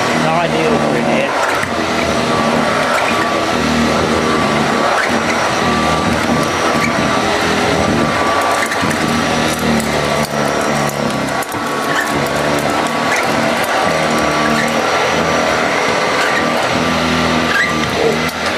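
A Hoover vacuum cleaner runs indoors, close and loud, holding one unbroken droning whine with a steady motor hum that never pauses.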